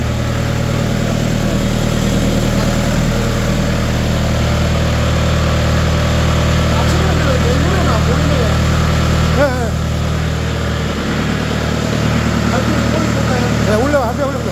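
A 62 hp diesel engine on a low-deck box truck fitted with an Italian 400-bar pump unit runs steadily at close range, loud and continuous, while people talk over it.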